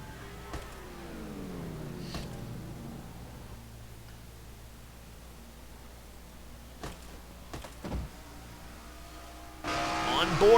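Ford and Chevrolet pickup trucks in a racing simulation at Martinsville run engine drones that rise and fall as they pass, with a commentator talking over them and a louder burst near the end.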